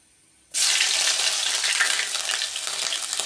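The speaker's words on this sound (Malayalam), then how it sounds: "ഇഞ്ചിയും വെളുത്തുള്ളിയും കൂടെ ഇട്ട് കൊടുത്തിട്ടുണ്ട് അതൊന്ന് ചെറുതായിട്ടൊന്ന് വാടിക്കോട്ടെ" Ginger and garlic drop into hot oil in a pan while a prawn roast is being made, bursting into a loud, steady sizzle after brief quiet that continues throughout with no talking.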